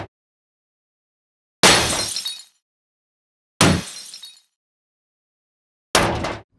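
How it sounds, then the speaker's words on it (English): Three separate heavy impacts, a metal hit blended with a glass smash, from the Reformer Pro plugin, each a loud crash with a ringing, shattering tail that fades over under a second, with silence between them. "Here we're using the Metal Impact, now blended with the Glass Smash using the XY pad."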